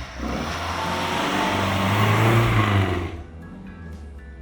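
A Mercedes 190SLR being driven, its engine droning steadily and rising slightly in pitch before easing off and dropping away, loud and close, no talking.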